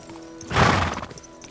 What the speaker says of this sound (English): So we have our own horse.